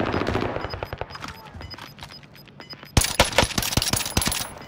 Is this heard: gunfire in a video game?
yes